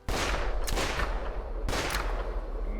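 Rapid video-game gunfire emptying a whole magazine, heard as loud, reverberant bursts of shots with sharp blasts near the start and again about a second later.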